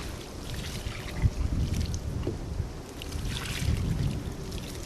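Water is poured over young plants wrapped in burlap on top and bottom, making a soft, uneven splashing and trickling mixed with wind noise on the microphone.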